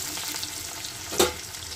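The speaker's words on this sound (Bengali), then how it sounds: "পেঁয়াজটাকে হালকা ফ্রাই করে নেব" Chopped onion lightly frying in a pan, a steady soft sizzle with one brief louder crackle near the end, no talking.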